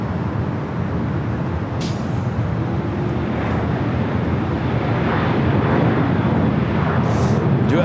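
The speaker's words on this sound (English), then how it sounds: "Do have a heavy taking off on the south side. That is American Airlines Flight 2321 heading to Chicago O'Hare, a 787-9 Dreamliner." An American Airlines Boeing 787-9 Dreamliner heavy jet takes off from the south side at LAX, bound for Chicago O'Hare. It gives a steady, broad, distant roar mixed with wind buffeting on the microphone, with no talk.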